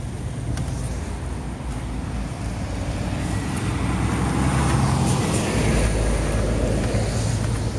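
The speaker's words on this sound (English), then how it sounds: "Oh, a BMW!" A BMW car rolls past on a roadside near Bannockburn, a broad road rumble that swells louder toward the middle and end of the pass before easing off. Nobody speaks.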